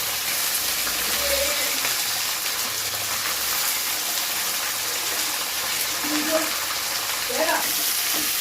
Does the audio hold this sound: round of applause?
no